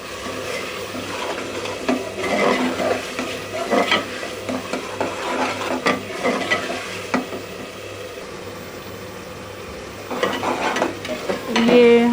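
Tomato masala for rajma curry fries in a pan, a dense close sizzle under frequent stirring and scraping of a spoon against the pot, with a few metallic clinks near the end; nobody talks.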